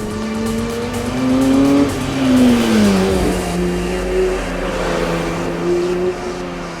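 A Porsche 911 GT3 engine roars past with shifting pitch, revs rising then dropping as it moves by, with a hint of tire noise.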